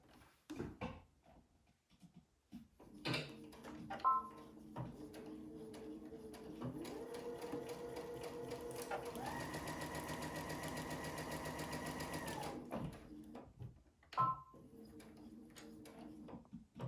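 Sewing machine stitching a quilt seam on a press-on panel quilt, close by, with a short burst and then a longer steady whirring run, set between softer handling clicks and bumps.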